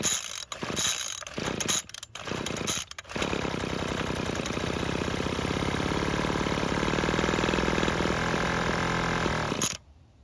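A Craftsman leaf blower's small two-stroke engine, fresh spark plug and raised compression, sputters through a few short pull-start bursts, then catches and runs at a steady buzzing idle for about seven seconds before cutting off abruptly.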